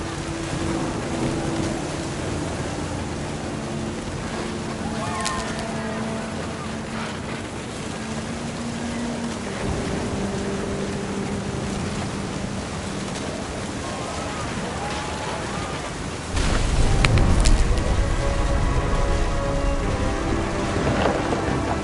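A thunderstorm with rain in What Remains of Edith Finch: steady rain hisses under faint tonal sounds, then a loud, close thunder crash breaks in late and rumbles on to the end.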